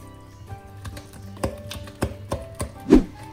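A spatula works through batter with baking powder and salt in a bowl, giving a quiet series of irregular light taps and scrapes, with a few sharper knocks against the bowl near the end.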